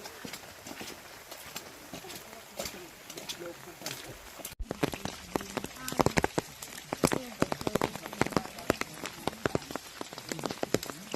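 Rain pours steadily on a mountain trail during a dayhike on Mt. Namogokan in Ilocos Sur, a dense patter with sharper drips and footstep-like knocks growing louder partway through as people talk over it.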